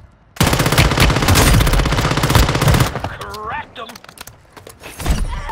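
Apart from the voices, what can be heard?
gunfire in the video game Warzone Mobile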